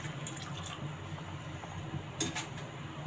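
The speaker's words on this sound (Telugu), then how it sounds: "కొంచెం పాలు పోస్తున్నాను." Milk poured into a pot of melted jaggery makes a soft, steady liquid rush, with a faint clink of the pot partway through and no voices.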